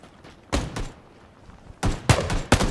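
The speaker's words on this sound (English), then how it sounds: "The gunshot sounds sweet." Gunfire in PlayerUnknown's Battlegrounds rings out in sharp loud reports, a pair of shots early, then a quick burst of three after a pause, close and without talk.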